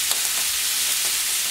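Chicken sizzles on a plancha griddle, a dense steady hiss of frying fat filling the short stretch, close and even, with a couple of faint pops.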